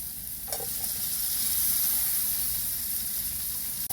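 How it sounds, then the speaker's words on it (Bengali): Hog plums fry and are stirred in a pan of spiced oil for chutney: a loud, steady sizzle and hiss up close, with a brief stirring scrape near the start. "আমড়াগুলো ভালো করে কষিয়ে নেব"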